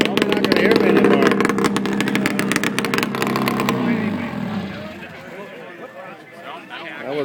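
Vintage Ski-Doo snowmobile engine firing up at an outdoor vintage snowmobile gathering in Lawler, Minnesota, a loud rough revving that fades after a few seconds into background noise and chatter.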